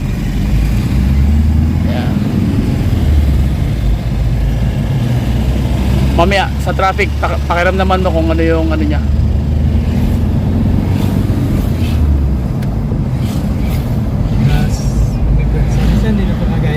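A Toyota Hiace van with low power and delayed throttle response runs steadily on a test drive in traffic, its engine a constant low rumble throughout, with someone talking over it.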